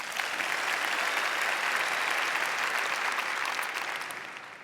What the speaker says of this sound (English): let's give Ms. Tamara Griffin a round of applause